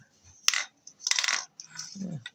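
An LED light bulb hits a hard floor with a bright clink, then bounces and clatters a few more times without shattering, close by.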